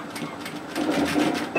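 A sewing machine runs steadily, stitching down a pleat on a peplum twist top, its hum rising slightly louder in the second half.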